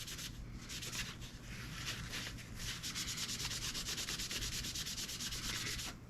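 Guitar frets on a Firefly FFMN are rubbed with a fine blue abrasive, a continuous close scratchy scrubbing with quick back-and-forth strokes that grow more rhythmic toward the end.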